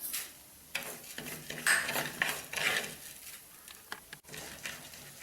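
Foxtail millet and dal roasting in a pan for payasam, stirred with a utensil that scrapes and clinks against the metal in quiet, irregular strokes, with faint dry rustling.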